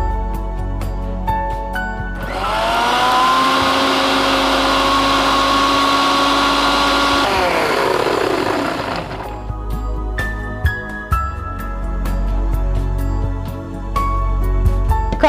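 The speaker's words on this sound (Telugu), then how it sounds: "ఫస్ట్ ఈ రెండు స్మూత్గా గ్రైండ్ చేసుకొని మిగతావి యాడ్ చేసుకుందాం." An electric blender grinds green apple and curd into a smoothie, a loud steady whir that starts abruptly, runs for several seconds, then winds down, with light clinks before and after.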